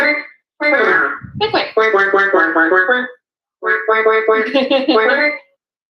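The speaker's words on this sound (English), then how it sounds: "a little duck" A toy or app produces a little duck's quacking in rapid repeated bursts, loud and close, broken by short silences.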